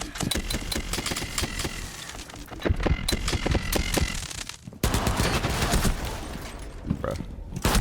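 Rapid automatic gunfire from the video game Rainbow Six Siege X, dense bursts of shots running almost continuously with a brief break in the middle, loud and close, with faint talk mixed in.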